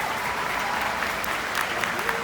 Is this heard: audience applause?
yes